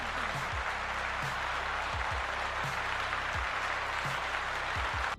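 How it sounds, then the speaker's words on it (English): Steady canned applause, even and continuous, with a low rhythmic thudding beneath it throughout. "Let's give him a round of applause."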